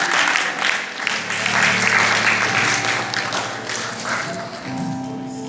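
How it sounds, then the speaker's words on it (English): Audience applause at a city-wide church Bible recitation competition, a dense wash of clapping that holds steady for several seconds and eases slightly near the end, with faint voices mixed underneath. "Come on, clap for them."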